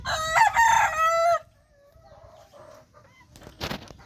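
A desi rooster crows loudly and close by in a single long call, followed by softer clucking and faint fowl sounds, with a brief rustle near the end.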